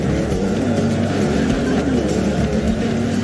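A car races in the Forza Horizon video game, a loud continuous engine roar with shifting pitch from start to finish.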